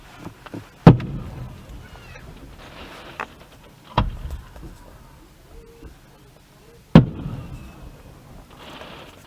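Canada Day fireworks over Nipawin in 2013 burst in three loud, sharp booms spaced a few seconds apart, each trailing off into a rumbling echo, with quieter crackles and faint background voices between them.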